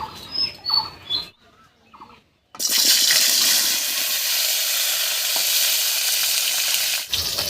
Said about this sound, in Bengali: আলুটা হালকা করে ভেজে নেব